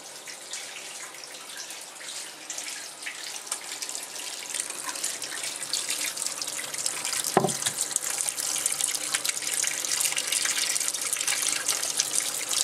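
Lukewarm water running from a tap over frozen tomatoes in a sink, a steady close splashing stream that grows slightly louder, with one brief knock partway through.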